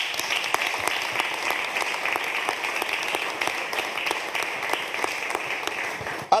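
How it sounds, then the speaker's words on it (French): An audience applauds a mixed church choir, with dense, even clapping that sustains at a steady level from start to finish, close and full, with no voices over it. "Waouh, ça s'acclame."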